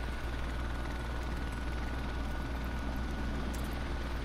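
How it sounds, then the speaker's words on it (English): A helicopter gunship in the shooter Modern Warfare Remastered gives a steady, dense rotor-and-engine rumble that holds constant and fairly loud throughout, with no voices over it. "We got helicopter raking them up."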